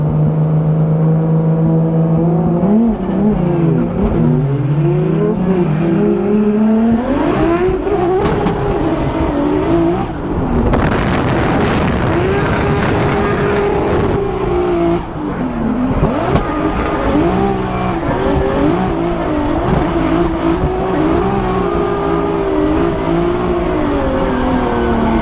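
A Formula Drift race car's engine revs hard during a chase run at Englishtown, loud and close, with rising and falling pitch sweeps, gear changes and a brief burst of tire noise midway.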